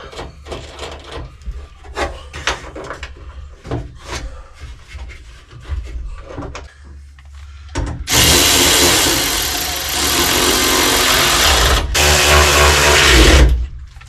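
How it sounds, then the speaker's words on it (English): Battery-powered ratchet with a fresh battery driving the door bolts on a 2002 Ford F350 truck, a loud sustained whir for several seconds after scattered clanks and handling noises. "I put a new new battery in this ratchet, so you got to watch it so you don't strip anything."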